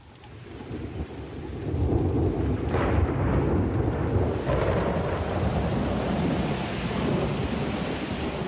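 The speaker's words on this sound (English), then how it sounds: "the November rains soak the parched ground" Heavy rain pours steadily during a thunderstorm as the November rains break the dry season on the savanna, with deep rolling thunder rumbling underneath and a loud thunderclap building around the third second, no voices present.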